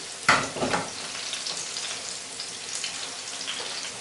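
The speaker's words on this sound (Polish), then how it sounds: "Teraz całość smażymy." Potato burger patties sizzle and fry steadily in a hot pan, with a louder burst of crackling at the start, then a continuous close hiss.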